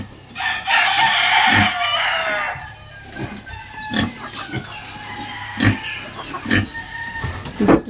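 A rooster crows loudly at the start while pigs grunt and snort in a run of short bursts, farmyard animal noise close by with faint background murmur.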